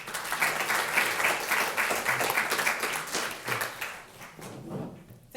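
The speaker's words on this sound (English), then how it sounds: "So make a round of applause for Kersti." Conference audience applauding a speaker at a Nordic Smart Government business meeting, steady dense clapping that holds for several seconds and then thins out, moderately distant.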